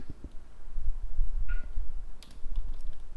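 Keys clatter on a computer keyboard in a design studio, a short burst of close clicks over a low rumbling background.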